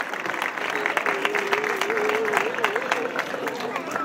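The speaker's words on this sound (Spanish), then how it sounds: "al igual que a Ricardo y a Norberto, Fuerte aplauso para ellos." A crowd applauds race finishers at a mountain march event, producing sustained dense clapping that holds steady for several seconds, with a voice calling out over it.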